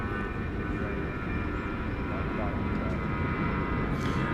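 Qantas jet airliner departing DFW Airport at night, a loud steady engine rumble with a whining tone, carrying on under a voice.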